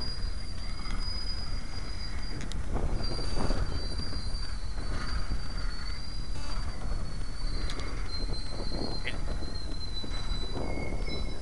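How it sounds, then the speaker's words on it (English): A Kansas City Southern freight train rumbles steadily past as it slows, with high, drawn-out wheel squeals ringing over the noise, continuous and loud throughout. "The train appears to be stopping."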